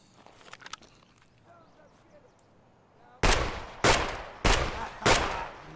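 Four heavy shotgun blasts from buckshot or slug loads in Escape From Tarkov crack out one after another at about half-second intervals, loud and close, after a quieter stretch of faint footsteps and movement.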